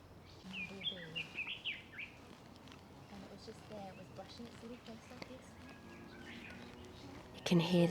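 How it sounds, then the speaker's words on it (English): Birds in bamboo forest in Japan chirp and sing in several clear bursts, fairly close, over a quiet outdoor background, with a soft voice near the end. "You can hear the beautiful birds."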